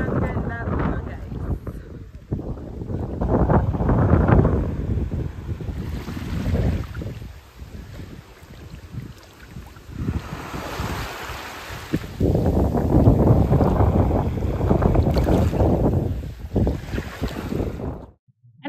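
Strong wind buffets on a white-sand beach at Cauayan Island in El Nido, Palawan, in loud gusty rumbles that swell and ease, with surf faintly beneath and people talking in between.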